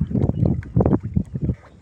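A small wooden boat is rowed on a deep river, with close splashing strokes and knocks of the oar or pole in the water in a quick uneven rhythm.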